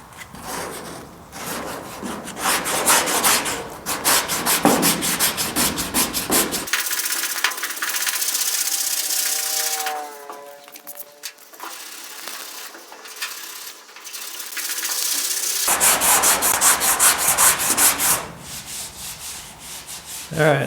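Sanding block worked by hand over body filler on the sail panel and filler panel of a GTO restomod, steady rhythmic scraping strokes close by, pausing for several seconds midway before the rubbing resumes, with no talking.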